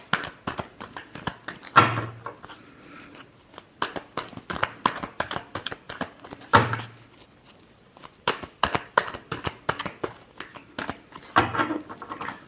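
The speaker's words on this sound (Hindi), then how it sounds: "last shuffle" A deck of tarot cards is riffled and shuffled up close in quick bursts of crisp flutter, with a few heavier thumps where the cards are squared, leaving short quiet gaps between rounds.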